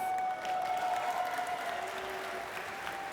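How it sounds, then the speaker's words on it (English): A crowd at a cosplay costume contest applauds steadily throughout, a soft, even patter of many hands clapping from a moderate distance. "Big round of applause."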